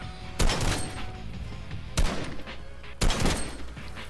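Three loud, sharp bursts of gunfire ring out at spaced intervals in a video game, each with a short ringing tail over a steady background.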